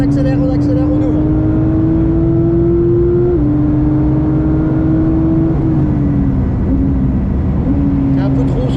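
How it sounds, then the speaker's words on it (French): A Porsche GT3 992.1 accelerates hard around the Spa circuit, its engine whine climbing steadily in pitch through several gear changes. The sound is loud and close, with an in-car roar underneath. "Allez, on commence à accélérer, on accélère, on accélère"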